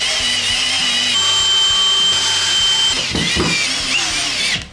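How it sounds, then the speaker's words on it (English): Power drill screwing down a sliding door track on an old shed fitted with reclaimed doors, running steadily in a loud, close whine for several seconds with a few bumps near the end before it stops. "Getting the track screwed down."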